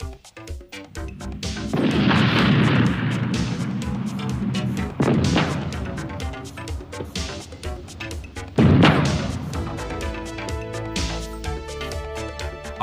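Main battle tank cannon fire, heavy booming blasts with long rumbling tails, a couple of loud reports over a dense, continuous military soundtrack.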